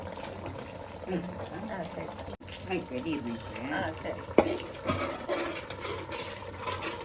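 Water poured into spiced masala for a village-style Mangalore chicken curry, a soft, fairly quiet splashing and trickling heard beneath people talking nearby.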